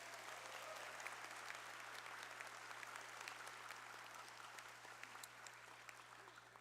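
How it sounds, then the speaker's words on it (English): Audience at a health science programs graduation ceremony applauds steadily, a dense even wash of clapping with no break, moderately distant in a large hall. "another big round of applause"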